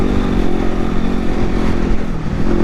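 A 2016 Yamaha WR250R dual sport motorcycle being ridden off-road, its engine droning loud and steady throughout with a dense, continuous buzz and no speech over it.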